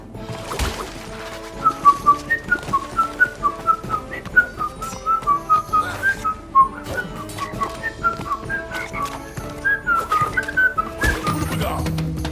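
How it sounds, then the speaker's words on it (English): A person whistles a bouncy, meandering tune in short repeated notes while playing Crash Bandicoot: Warped, close and fairly loud over game music and sound effects. "Sorry, I'm whistling."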